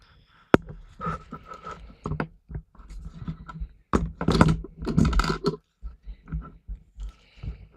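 Typing on a computer keyboard during a coding session, a run of irregular clicking keystrokes with a few louder clacks and short pauses, close by with no talk.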